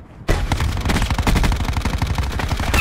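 An MX9 submachine gun fires in a first-person shooter game: after a brief quiet start, one loud, continuous rapid-fire burst rattles on for about two and a half seconds, close up and with no voices.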